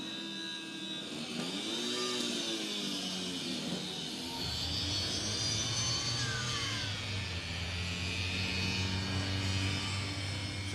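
A supercharged Fiat 500 race car climbs a hill at a revival meet, its small engine buzzing loud and high with rising, wavering revs throughout.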